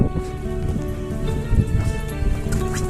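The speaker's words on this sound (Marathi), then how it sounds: "पाऊस आला की व्ह्यू चांगला ते पण आम्ही भिजतोय" Rain falling at a hill fort tower, a dense, steady patter of drops on surfaces, loud and continuous with no voices.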